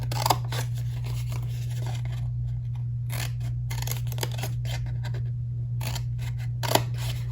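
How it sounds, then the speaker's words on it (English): Scissors snip through paper panels for a mini bookcase keychain craft, a run of crisp, close cuts over a steady low electrical hum, with no talking. "you're going to take and cut both middle panels up to their score line like this"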